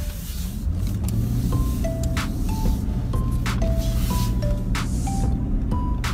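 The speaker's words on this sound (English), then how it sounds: "we're going to take a quick drive" Car on a short drive, a steady low road and engine rumble filling the cabin throughout, with faint ticking and light clicks over it, no voices.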